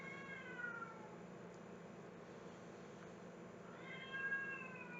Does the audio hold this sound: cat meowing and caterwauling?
yes